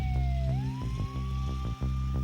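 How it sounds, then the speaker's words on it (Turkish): An ambulance's wailing siren rises and falls over a low rumbling engine and road noise, fairly close and steady. "Ambulans sesi bu ya"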